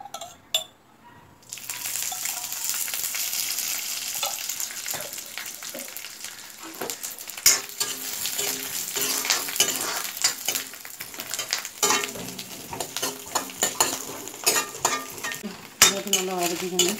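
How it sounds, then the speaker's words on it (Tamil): Coconut and garlic roast in oil for a toor dal chutney, sizzling under frequent clinks and scrapes of a spoon against the pan, with stirring bursts scattered across the whole stretch. "தேங்காயும் வெள்ளைப்பூடும் சேர்த்து வறுக்கணும்"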